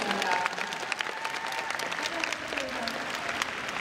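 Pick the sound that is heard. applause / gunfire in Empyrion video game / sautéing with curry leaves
applause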